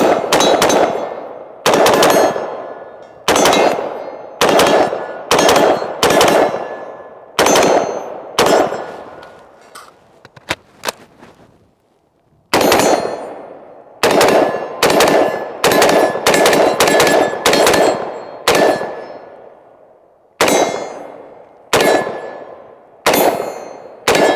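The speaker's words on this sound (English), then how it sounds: "Every time I shoot this rifle, it's undeniably soft shooting and flat shooting compared to a lot of other ARs on the market." Loud, sharp AR-15 rifle shots ringing off steel targets at an outdoor range, fired in quick strings of two to four separated by short pauses, each crack trailing into a metallic clang, with no talking.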